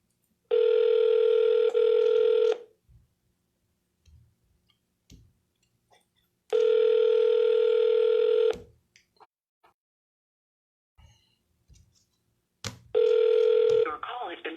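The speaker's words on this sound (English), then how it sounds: "I'm going to call a few times to see if we can get a hold of anybody" A phone call rings through on an outgoing line: three long, steady buzzing ring tones about two seconds each with quiet gaps between them, and a few faint clicks and rustles in the pauses.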